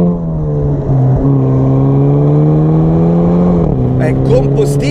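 A Hyundai i30N is driven hard through corners. Its engine drones loud and close from inside the cabin, the pitch holding steady and then dropping and climbing again as the car takes the bends, with sharp scraping bursts near the end.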